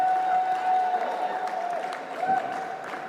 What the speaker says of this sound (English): a huge round of applause for the Eastern Rush to our fans who are still here with us at Albany Tennis Park